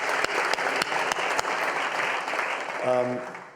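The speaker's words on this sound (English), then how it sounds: "I think very much worth an applause there" Applause at a conference session, steady clapping from a seated audience with a few sharp individual claps poking out, fading near the end as a voice cuts in.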